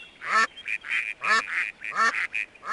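Cartoonish duck quacks from the trivia video game You Don't Know Jack ring out in a quick series of loud, nasal honks, evenly spaced, close and alone without any talking.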